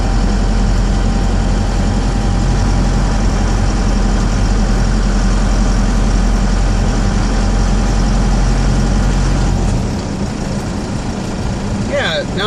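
A 4BT Cummins diesel engine idles at low RPM, a steady, loud, continuous low rumble with a constant hum, dropping slightly in level near the end as a voice briefly speaks.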